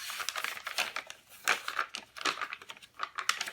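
Midori paper crinkles close up, a dense run of dry, crisp rustles and crackles that rise and fall in quick, uneven bursts.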